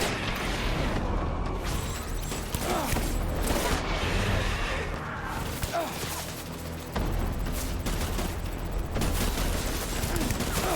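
Gunfire rattles in Death Stranding as a gun fires repeated sharp shots in dense bursts with a few short pauses, loud and close amid clattering mechanical noise and crashes.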